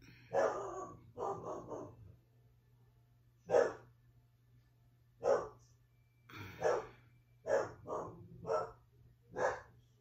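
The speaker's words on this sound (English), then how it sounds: "I don't know why my dog's barking" A dog barks in a series of sharp, separate bursts, some doubled or tripled, at moderate distance indoors over a low steady electrical hum, with gaps of quiet between volleys.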